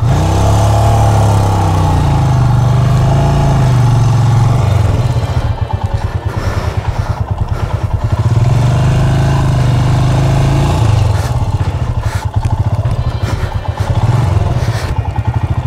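A Royal Enfield motorcycle engine chugs loudly and continuously at close range, its rumble pulsing and rising as it labors over a rutted track, with rattling clatter.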